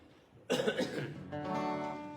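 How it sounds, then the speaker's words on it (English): A single harsh cough erupts close by, followed by a rough, strained vocal sound. "I started coughing already"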